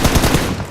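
Rapid bursts of automatic gunfire in the PUBG Mobile battle royale game, several quick loud volleys in the first half that trail off and fade toward the end, with no speech over them.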